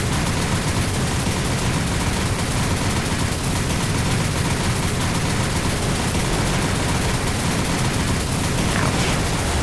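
Dense, continuous naval gunfire in War on the Sea, an IJN campaign battle with a destroyer under fire, rattling and booming loudly without pause and with almost no talk.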